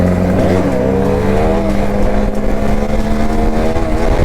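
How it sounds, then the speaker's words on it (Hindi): A Kawasaki Ninja ZX-10R's engine revs loudly and steadily up close, its pitch climbing and falling across the whole stretch with a constant roar and no talking. "तो भाई इस 10R की आवाज़ चेक कर रहे हो भाई"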